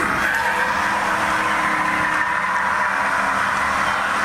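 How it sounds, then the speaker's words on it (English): Motorcycles heard from a home up on a hill produce a continuous, loud engine roar with a rough, hissing edge and no clear breaks. "That's just the motorcycles."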